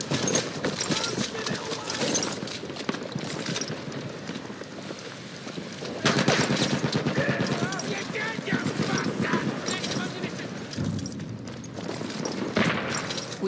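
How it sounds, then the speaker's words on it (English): Galloping horse in the video game Battlefield 1, its rapid hoofbeats running steadily through chaotic battlefield noise with gunfire, while voices call out over it. "Spotted an enemy horse rider!"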